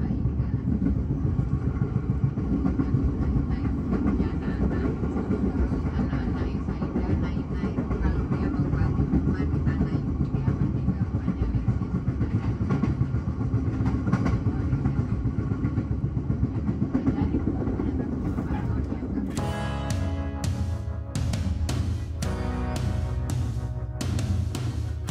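An older passenger train, the KA Mutiara Timur in business class out of Surabaya, rumbles steadily along the rails from inside the carriage, with a rapid clatter of clicks near the end.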